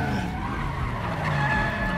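A car skidding and crashing in Resident Evil 7, a loud sustained tire screech with engine roar filling the moment, close and dominant with no talking.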